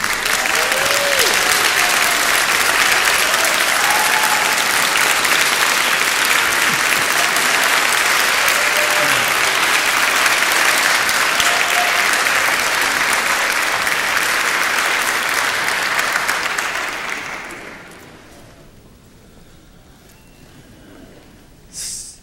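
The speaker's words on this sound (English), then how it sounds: "stand up, turn around, and applaud your family and friends" Graduates of a 2014 commencement ceremony stand and applaud their families and friends, producing a loud, steady wall of clapping for about seventeen seconds before it fades into quiet room tone.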